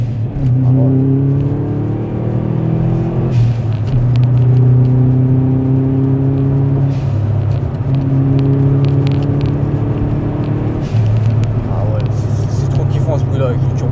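A 1998 Subaru Impreza GT turbo with its engine revving from inside the car. The tone rises in repeated surges, each climb broken by a brief gear shift. The engine is loud and sustained, with people talking over it.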